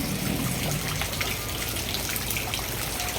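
Heavy rain pouring down at a terminal during a typhoon, a constant hissing downpour with splashing water, loud and unbroken with no voices.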